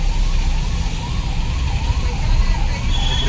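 Ambulance siren wailing through a traffic jam in heavy rain, a loud rising and falling tone over continuous road and rain noise, with a second higher siren tone appearing near the end.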